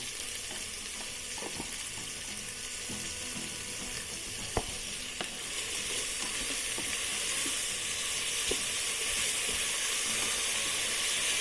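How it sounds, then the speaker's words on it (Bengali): Mixed vegetables fry in a rice cooker for fried rice, a steady close sizzle and hiss running throughout with an occasional faint clink of stirring. "সবজিগুলো খুব ভাজতে হয় না, মোটামুটি ভাজা ভাজা করে নিলাম।"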